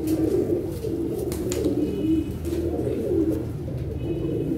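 Teddy pigeons coo in a steady, continuous murmur of low rolling calls, close and fairly loud, with no talking over them.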